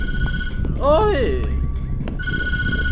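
A telephone rings in the Tattletail horror game, a steady electronic bell trilling loudly before and after a brief pause, while a player's voice cuts in over it with a short exclamation.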